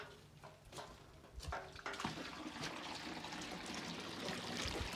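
Water pours and trickles into a herbicide sprayer tank being filled for a paraquat application in a field, a steady gushing stream that grows fuller and louder after the first couple of seconds, with no talk over it.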